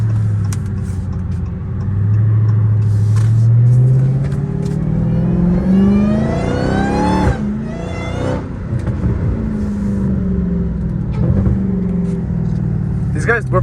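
Dodge Hellcat Redeye engine rumbling through a quick U-turn, a deep close idle that rises in pitch as it revs, then settles back, with someone talking over it.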